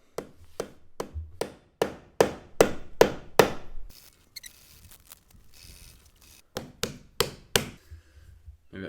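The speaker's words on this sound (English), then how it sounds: "and then the good old hammer" A hammer taps a small sanded wood plug into a screw hole in a wobbly balustrade: a first run of about a dozen sharp, evenly spaced blows, a pause, then a few more closely spaced taps.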